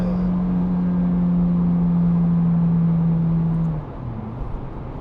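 Cabin of a Ferrari F430 Berlinetta F1 coupe on the move: a steady, smooth engine drone with a low hum and road rumble, held at one level before easing off near the end, with no talk.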